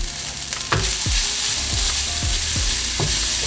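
The whites of green onions sizzle loudly in a frying pan for pork fried rice, with a continuous hiss broken by a regular series of scraping stirs, close up and without talk.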